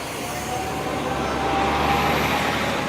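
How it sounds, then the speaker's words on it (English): More city buses roll by on Fifth Avenue beside Trump Tower in New York, a continuous close traffic drone that swells slightly toward the end, with nobody speaking over it. "A couple of more buses to pass us"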